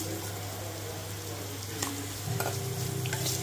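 Radish sautéing in a pan, a continuous close sizzle with scraping stirs, a low steady hum underneath and the frying growing louder toward the end.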